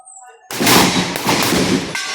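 A shotgun fires once on a firing day, a sudden loud blast followed by a sustained roaring tail that cuts off abruptly, after a quieter lead-in with faint voices.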